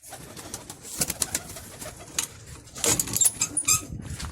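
Pigeons coo close by in short soft bursts, with some fluttering and rustling that grows busier toward the end.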